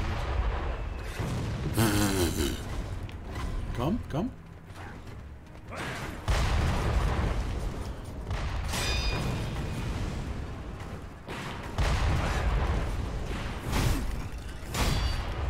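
Cannon blasts and explosions in the video game Sekiro: Shadows Die Twice, with loud booms and heavy mechanical crashes dense through the clip alongside battle noise, with brief speech.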